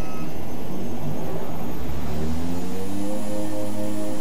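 A small propeller plane's engine roars steadily and climbs in pitch as power comes up for takeoff, loud and close, with no talking.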